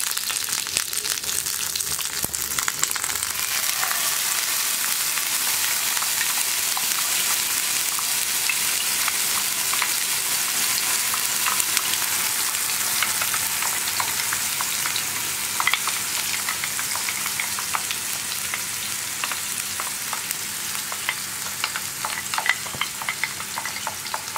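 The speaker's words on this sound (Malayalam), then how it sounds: "ചട്നി ചേർത്തിട്ട് ഒന്ന് വഴറ്റിയെടുക്കുക കേട്ടോ." Tomato and onion chutney sautéing in a hot pan with curry leaves, giving a steady, loud sizzle and crackle of frying that runs throughout with no voices.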